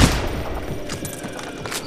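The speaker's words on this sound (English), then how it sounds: "Who's shooting me?" Rapid gunfire aimed at the player in the heist shooter Payday The Heist, a dense crackle of shots beginning with a loud burst and continuing as a sustained rattling volley.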